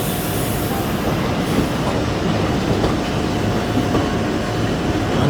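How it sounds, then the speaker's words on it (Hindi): Vande Bharat Express running past at Kanpur station, a steady broadband rumble of rolling wheels and rail clatter that stays loud and even throughout, heard close by with no talk. "अब वंदे भारत एक्सप्रेस जा रही है सामने से"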